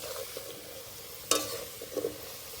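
Potatoes frying in a pan for a prawn, potato and eggplant curry, a low steady sizzle with faint scrapes and one sharp clank of a utensil midway, close up.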